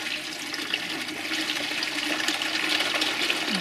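Dirty water from a koi pond filter gushes out in a steady, rushing flow, fairly close and continuous, with no voices.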